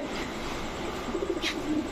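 A pigeon at a dealer's stall gives a soft, low cooing phrase near the end, faint against a steady background hum with no speech.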